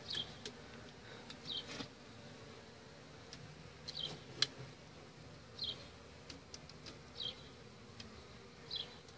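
Honeybees from a hive removed from a house overhang buzz in a steady, faint drone, with occasional louder passes as individual bees fly close, and no voices.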